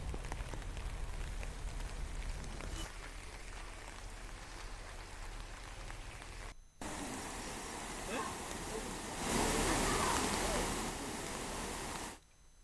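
Heavy rain falls in Barkhola, Assam, where floodwater is rising, as a faint, steady hiss with a couple of abrupt cuts and a stretch where the downpour swells louder.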